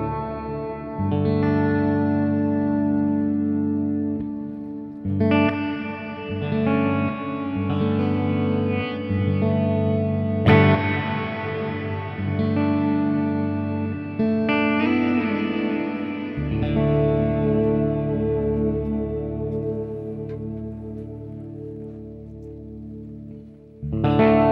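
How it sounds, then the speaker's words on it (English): Guitar chords ringing through a BOSS RV-6 pedal set to hall reverb with all knobs turned up, each strum blooming into a long, lush wash that sustains and decays smoothly between phrases. "The next one is a hall reverb."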